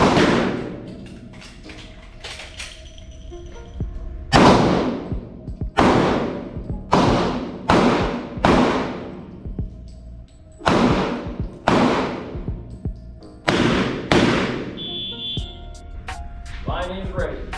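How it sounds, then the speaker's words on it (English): Gunshots on a firearms instructor training line, with single shots and short volleys cracking out at irregular intervals. The shots are loud and echo off the range, with a brief pause between groups. "When he calls fire, you fire 1 round."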